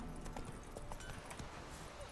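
Quick, light horse hoofbeats in The Witcher 3 clip-clop in an uneven rhythm over a steady background wash, with no talking.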